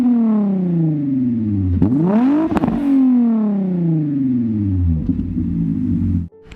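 A Volkswagen Jetta's 2.8-liter VR6 engine revs hard through rising and falling sweeps, climbing to a peak and dropping back before repeated throttle blips, loud and close, then cutting off abruptly at the end.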